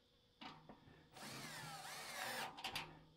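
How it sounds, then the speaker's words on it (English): Power screwdriver briefly whirring as it drives a screw into a dust extractor, a short burst followed by a longer sustained run of motor whine, close and fairly clear with no talking. "See how easy that is when you engage the screwdriver?"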